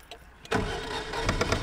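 A restored 1981 Citroen 2CV pulls away, its small engine rising sharply from near quiet into a busy, close running note as the car begins to move.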